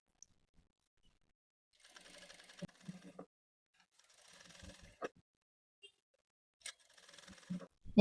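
Sewing machine stitching fabric slowly, with short bursts of mechanical whirring and clicking separated by pauses and a few sharp clicks, close and fairly quiet.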